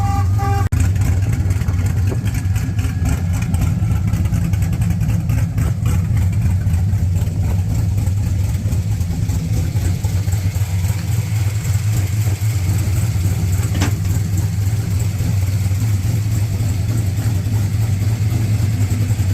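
An LS3 engine in a Camaro runs at a steady idle, a loud, close, continuous low rumble that holds without change throughout.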